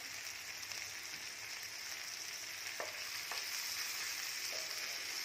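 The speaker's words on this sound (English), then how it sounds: "Just shallow fry the cubes. We don't want to" Paneer cubes shallow frying in a pan, heard as a soft, even hiss of oil with a couple of faint clicks partway through.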